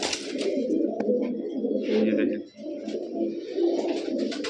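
Military pigeons cooing in rolling low bursts at close range, with a person speaking briefly over the birds.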